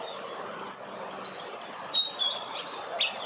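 Birds at a Bangkok temple, among them white fantails and tree sparrows, give quick, high chirps and short whistled notes in irregular bursts over soft background hum, fairly close and moderately loud.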